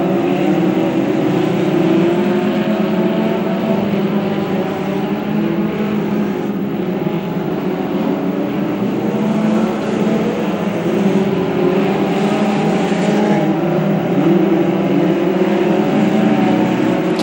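Race cars circle the Macon Speedway oval under caution-lap traffic, their engines a steady, loud, continuous roar that swells and fades slightly as the pack passes, with no talk over it.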